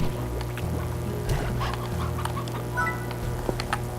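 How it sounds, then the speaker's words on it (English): A chicken in the video game Slime Rancher gives a few short clucks over a steady low game-ambience hum, moderately close, with no speech. "there's the other chicken. Hey, chicken."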